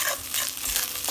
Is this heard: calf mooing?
no